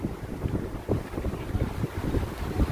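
Steady wind buffeting a microphone on a hiking trail near Wind Gap, Pennsylvania, a dense, rumbling roar with gusty swells throughout.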